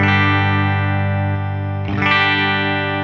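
A sustained, heavily distorted chord on a Fender Jaguar Classic Player Special HH electric guitar in normal mode, without low cut, rings out loud and thick, briefly re-struck near the end before cutting off.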